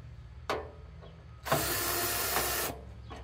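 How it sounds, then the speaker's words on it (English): Screws being backed out of the cover on a Mr Cool mini-split condenser unit with a power driver, two short whirs followed by a longer sustained drive burst, close and fairly loud with no talking. "We'll take all the screws out."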